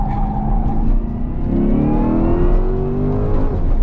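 A Chevrolet Corvette E-Ray hybrid supercar accelerates hard from inside the cabin, its engine note climbing steadily and loudly in pitch with no talking over it.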